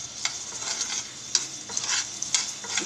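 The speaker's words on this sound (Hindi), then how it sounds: "इस तरह से 5 मिनट के फ्राई करेंगे। हल्के हल्के से उसको फ्राई करते रहेंगे।" Cubed potatoes fry steadily in a pan for a mixed vegetable dal, a continuous bright sizzle broken by repeated scraping stirs of a spoon, close and fairly loud, with no voices.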